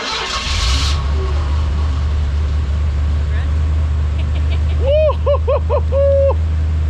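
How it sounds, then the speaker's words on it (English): A Ford 302 V8 in a 1988 Ford Bronco settles into a steady, close low rumble after a brief noisy start, with a few short tonal chirps near the end. "Just crank it up and see if she'll crank."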